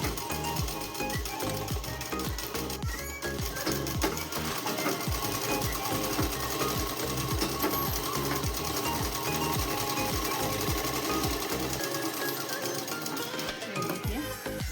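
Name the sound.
sewing machine stitching a dress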